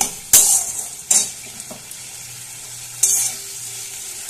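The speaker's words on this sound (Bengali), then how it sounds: "আবারও খুব ভালোভাবে একবার কষিয়ে নিচ্ছি।" Ground spice paste stirred and fried in hot oil, with a low steady sizzle broken by a few sharp scraping strokes of a spoon against the pan, heard up close without any talk.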